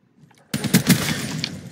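Video game gun firing a sudden, loud burst of rapid shots after a quiet moment, the rattle continuing steadily to the end.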